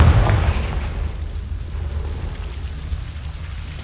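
A Confringo fire-spell explosion in Hogwarts Legacy: a heavy rumbling boom at the start that fades into a long low roar and crackle, with no talk.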